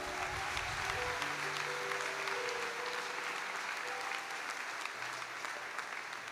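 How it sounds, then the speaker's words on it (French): Church audience applauding for Jesus Christ, dense sustained clapping from a large crowd that carries on evenly for several seconds, with faint voices mixed in. "Acclame encore pour Jésus-Christ."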